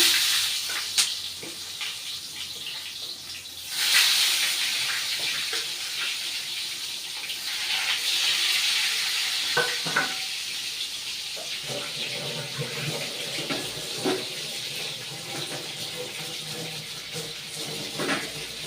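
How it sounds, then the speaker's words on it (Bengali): Eggplant slices fry in smoking-hot oil, a continuous loud sizzling hiss with occasional crackles and small clinks throughout. "তা তা বেগুনটা তাই ভাজা করে নিচ্ছি।"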